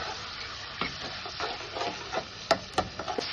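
Fried onions and spice paste are stirred in a pan for an egg omelette curry, with a continuous soft sizzle broken by repeated close scrapes and clinks of a spoon, growing busier toward the end.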